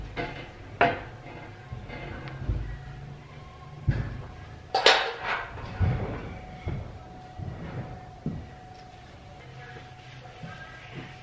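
Old plaster-dusted hand tools being washed, with metallic clinks and knocks of tools against a sink or basin, scattered irregular clatters and a brief splashy rush of water midway, close and moderately loud.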